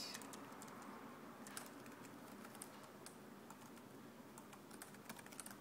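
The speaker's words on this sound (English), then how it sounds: "So I just typed this." Typing on a computer keyboard while setting up ChromeOS Linux, a quick, faint run of light key clicks heard from a distance over steady room hiss, no voices.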